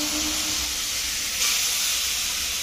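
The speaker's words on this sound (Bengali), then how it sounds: "দুধটা দিয়ে দেওয়া হচ্ছে ভাজা সিমইয়ের মধ্যে।" Milk poured into vermicelli fried in ghee, a steady loud hiss and sizzle with a low bubbling rumble underneath, continuous and close.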